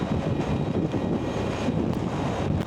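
Steady, loud wind buffeting the microphone while riding an Energica electric motorcycle along windy roads in Iceland, a continuous broadband rush with no voices.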